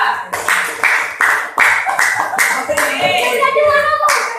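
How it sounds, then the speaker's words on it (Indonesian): Students in a classroom give a round of hand clapping for group 2 during a project-based learning lesson, with rhythmic, close, loud bursts of claps in unison and some children's voices chattering underneath. "Kita dengarkan pula tepuk tangan kelompok 2"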